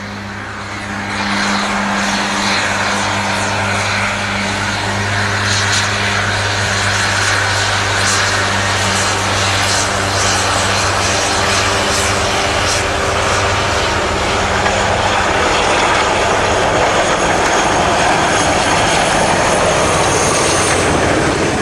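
Class 47 diesel locomotive 47360 hauling tank wagons from Bernhays to Barry Docks past Singleton, a loud sustained engine drone with deep steady hum building as it passes close by.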